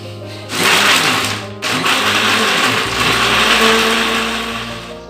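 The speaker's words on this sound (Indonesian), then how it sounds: "untuk ngeblender kacang, terasi sama bawangnya ya" A kitchen blender grinds peanuts, garlic and shrimp paste with a little water, its motor whirring loud and steady after a short start, with a brief dip before it resumes and runs continuously.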